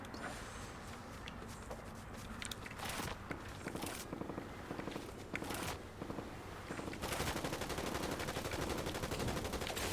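Bursts of automatic gunfire and scattered single shots in a video game battle, dense and fairly loud, interrupted by brief pauses and with some footsteps.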